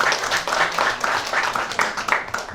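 A room of people applauds a school quiz team, giving a steady, fairly loud wash of clapping that runs evenly through the whole stretch without talk.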